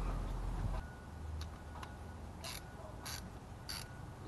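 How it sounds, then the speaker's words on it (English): A ratchet works on the 8 mm intake manifold bolts of a 2009 Chevy 5.3 L V8, giving soft clicking turns and a few brief louder bursts of rapid ratcheting, close and faint with no talking. "Loosen the intake manifold bolts in 1/4 turn increments in the reverse order of the tightening sequence."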